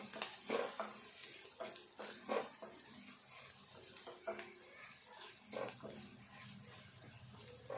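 Cabbage curry being stirred in a pan, repeated scraping strokes of a spoon against the pan over a steady sizzle, with occasional louder clinks in a loose rhythm.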